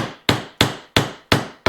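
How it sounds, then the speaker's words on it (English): Five sharp hammer blows driving a nail into wood, evenly spaced and loud, each ringing out briefly before the next strike. "we're going to take this hammer like so, and we're just going to tap it in"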